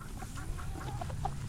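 Backyard chickens clucking softly and steadily while being fed grasshoppers and scratch, several short calls scattered over a low, constant background rumble.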